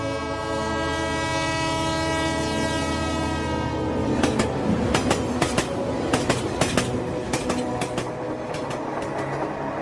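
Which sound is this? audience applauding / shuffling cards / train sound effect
train sound effect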